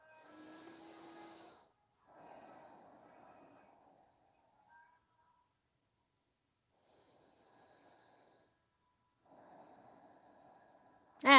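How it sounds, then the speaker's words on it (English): Slow nasal breathing during a yoga session, several soft hissing breaths with pauses between them, close and quiet, alone without talk. "breathing through your nose."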